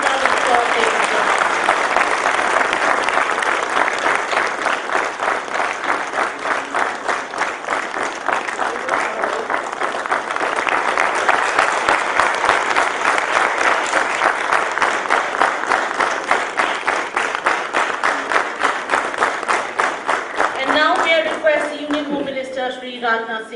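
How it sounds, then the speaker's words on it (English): Sustained audience applause at an NDRF Raising Day ceremony fills the hall for over twenty seconds, dense and steady, with a few voices rising near the end. "A big round of applause, ladies and gentlemen."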